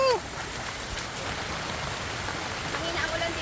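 Steady rain falls in a garden where ridge gourd and bottle gourd are being harvested, a constant close hiss of drops with brief voices near the start.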